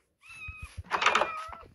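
A cat meows in a block-building video game, one short drawn-out mew after a few soft clicks, close and clear with no talking over it.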